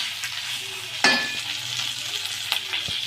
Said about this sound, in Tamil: இதே மாதிரி நீங்களும் வதக்கிங்க.